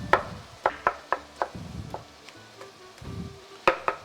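Tomatoes are sliced on a board with a series of sharp, close knife chops in an uneven rhythm, about a dozen strikes alone with no talk.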